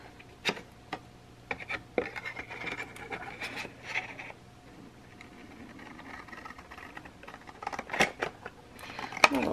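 Scissors cut paper for an art journal, with a handful of sharp, close snips spaced irregularly among quiet handling rustles and faint background hum.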